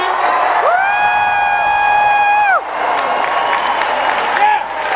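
A convention crowd of thousands at a Minecraft event cheers and whoops loudly, with a long sustained high shout over the roar, a brief dip, then renewed cheering and clapping.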